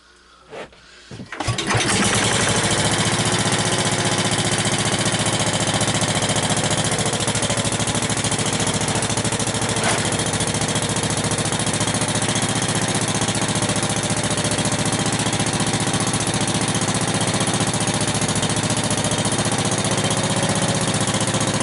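A 1963 David Bradley 725 small engine sputters to life and then runs steadily, a loud, close, continuous buzzing drone that holds without letup.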